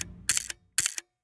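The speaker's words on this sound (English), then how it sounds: "If you were to go on the internet and try and find the sound of a camera, a lot of it is going to sound like this." A harsh stock camera shutter sound effect plays twice: two sharp, bright mechanical clack-and-whir bursts close together, loud and isolated against silence.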